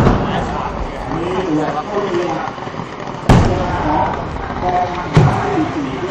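Two sharp loud bangs like gunshots a couple of seconds apart during a military drill, ringing out over steady chatter from several people nearby.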